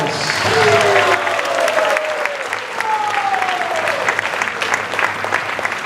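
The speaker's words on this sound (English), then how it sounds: "Can we have a loud round of applause?" A loud, sustained round of applause fills a temple hall during a Narasimha Chaturdasi festival stage performance in Singapore, with cheering voices rising over the steady clapping throughout.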